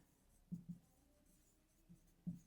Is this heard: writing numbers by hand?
yes